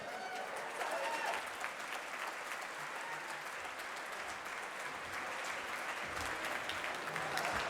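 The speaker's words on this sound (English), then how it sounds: "Let's have another round of applause for the Boys and Girls Club dance team" At a charity breakfast, a large audience applauds the Boys and Girls Club dance team with sustained, even clapping that carries on throughout, sounding somewhat distant and soft, with a faint murmur of voices beneath.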